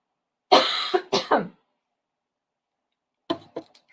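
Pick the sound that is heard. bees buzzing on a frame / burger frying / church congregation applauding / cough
cough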